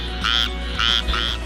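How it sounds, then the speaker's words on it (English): A frog croaking outdoors: three short, buzzy, trilling calls in a steady rhythm, close and clear above a low constant background hum. "Hey, look, it is a frog."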